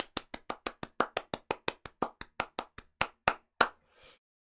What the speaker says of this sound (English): please do join me in giving Natalia a huge round the world round of applause